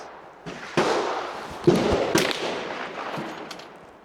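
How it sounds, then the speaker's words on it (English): A Ruger bolt-action rifle is fired at an outdoor shooting range: several sharp, loud cracks spaced unevenly over a few seconds, each trailing into a brief rumbling echo, with no talking. "I'm gonna shoot at the top left, my first 5 shots."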